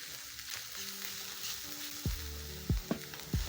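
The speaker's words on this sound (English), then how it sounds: "Let the garlic cook until fragrant." Garlic cloves sizzle quietly in a pan with browning onions, a soft continuous frying hiss broken by a few short scrapes of stirring near the end.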